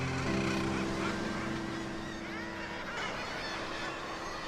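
Seabirds call continuously on Lunga, a protected bird reserve and sea-stack island in the Inner Hebrides of Scotland, making dense honking and squawking cries over steady wind and sea noise.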